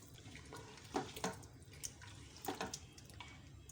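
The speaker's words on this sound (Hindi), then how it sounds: "अब इसके अंदर मैं तकरीबन 1 गिलास पानी डालूंगी।" A glass of water is poured into a pot of mutton curry, heard as soft, intermittent splashing in a few brief bursts over a quiet background.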